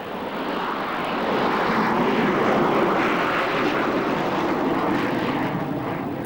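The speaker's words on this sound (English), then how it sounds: "It's the Harrier II, and it claims a direct line of descent from the Hurricane." A Harrier II jet fighter roars at an airshow, its broad, rushing engine noise swelling and holding loud and continuous as it passes.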